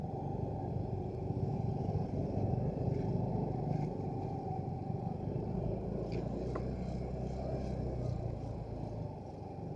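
A motorcycle passes on a climbing road on the way to Situ Cileuncak in Pangalengan, its engine a low steady drone heard from inside a moving vehicle amid constant road rumble, moderately near.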